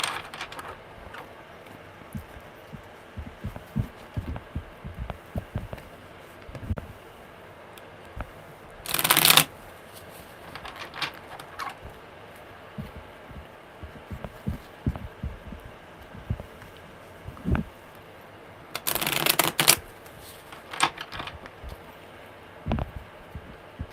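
Tarot cards are shuffled by hand close up, with soft repeated riffles, taps and flicks spread across a quiet room background. Two brief louder bursts of rapid card riffling stand out, and no one speaks.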